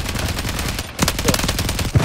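Machine gun fire in a Call of Duty match, a loud, continuous rapid rattle of shots with a brief dip before the burst resumes in a steady stream.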